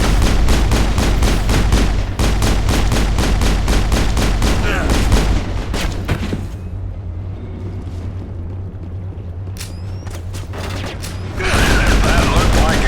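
Loud, rapid gunfire rattles in sustained bursts during Mass Effect planetary exploration, pausing into a quieter stretch before another volley erupts near the end.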